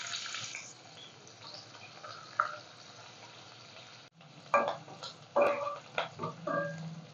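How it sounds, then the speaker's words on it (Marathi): Chopped onion frying in a spoonful of oil for a Kolhapuri white mutton broth, a soft steady sizzle that turns into sharper bursts of stirring and crackle in the second half, with no voices. "कांदा तो छान असा परतून घ्यायचा आहे"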